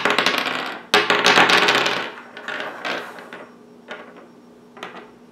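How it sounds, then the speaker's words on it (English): A 3D printed nylon sheep knucklebone dropped onto wood, giving a sharp clattering impact that bounces and rattles, followed by several smaller, fading taps. "They sound the same when dropped on wood."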